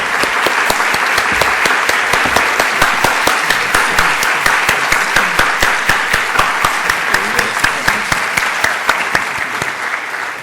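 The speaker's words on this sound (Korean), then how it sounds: "다 함께 박수로 인사드리겠습니다" Steady, loud applause from an audience at an academic symposium, dense clapping sustained for about ten seconds without a break.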